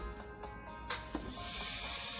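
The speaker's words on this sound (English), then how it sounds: "We have a little sizzle going on" Food frying inside a preheated air fryer gives a soft, steady hiss that rises and broadens after a brief clatter, continuing close and alone with no talking.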